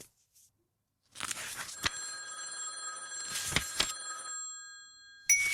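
A telephone bell rings in bursts, loud and close, with short pauses between the rings.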